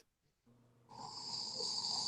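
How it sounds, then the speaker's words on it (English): Someone snores after a post-game show about a Miami Dolphins versus Buffalo Bills football game, a quiet start building into a loud, rasping drawn-out snore close to the microphone. "Who is snoring? Snoring."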